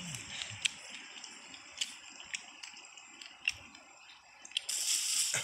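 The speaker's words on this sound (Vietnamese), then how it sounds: "Mình quay ở đây nước suối này" A mountain stream in Hoàng Leo village runs with a steady, rushing wash of water, dotted with small splashy clicks and drips, and grows louder near the end.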